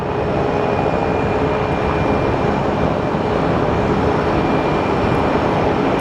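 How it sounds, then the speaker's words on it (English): A Boeing 737 airliner at Sky Harbor Airport, a loud, steady jet roar with a thin whine running through it, holding constant throughout. "We got the Cessna, and then we're gonna get the 737."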